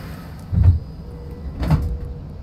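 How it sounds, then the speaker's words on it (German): The front door of an Ebusco electric bus in Bus Simulator 21 closes with two muffled thumps about a second apart over a low, quiet hum. "Tür vorn zu."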